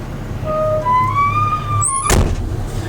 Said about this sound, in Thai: ขออนุญาตปิดประตูเด้อ